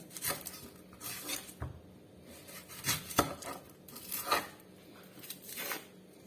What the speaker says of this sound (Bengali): পেঁয়াজ কাইটা নেবো এগুলো আসলে ইন্ডিয়ান পেঁয়াজ